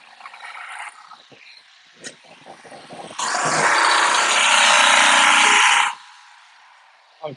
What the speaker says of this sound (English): we're gonna hit it with the drill really quick